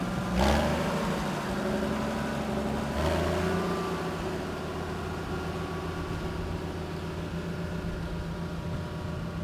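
A small 2017 tractor engine runs steadily in an old-iron parade of power at a county fair, a continuous low mechanical drone with a brief louder swell near the start, heard alone without talk.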